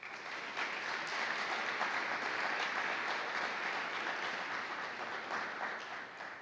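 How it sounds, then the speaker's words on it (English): Steady applause from a large crowd at a high school ceremony, even and sustained for several seconds, fading slightly at the end. "Please give yourselves a round of applause."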